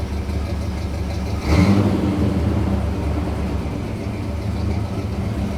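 A 1959 Pontiac engine with worn spark plugs and a carburetor problem rumbles steadily nearby, with a sharp surge of revving when the throttle is opened, then settles back into a rough, even drone.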